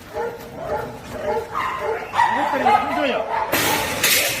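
Young hunting-dog puppies bark, yip and whimper close by in a series of short, uneven bursts, with human voices talking over them.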